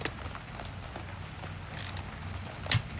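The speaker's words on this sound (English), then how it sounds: "we're going to torque the lug nuts to 110" Torque wrench tightening lug nuts to 110 in a crisscross pattern during a disc brake install. One sharp click lands near the end over a faint, steady mechanical background.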